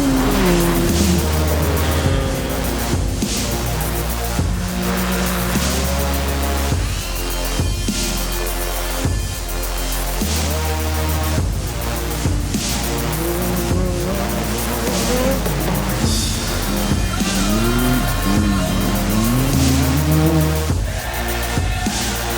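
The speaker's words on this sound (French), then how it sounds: "Le buggy numéro 21 de Laurent Fouquet, qui a signé le meilleur temps aux essais, fonce dans la première ligne droite et prend la tête" An off-road racing buggy leads a pack of SSVs away from the race start, loud engines roaring and revving with rising and falling pitch and the occasional tire squeal, continuous and close.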